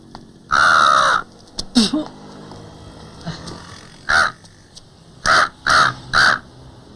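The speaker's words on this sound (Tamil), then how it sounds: "எப்ப விடும்போது அடிக்கடி காக்கான் சவுண்ட் வருதே?" Loud, harsh crow caws ring out close by, a long call followed by a string of shorter, evenly spaced caws.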